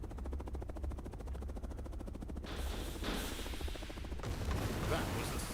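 Rockets fired at infantry in a Cold War strategy video game, rapid rattling bursts of gunfire and launches followed by louder blasts and explosions, a dense continuous barrage.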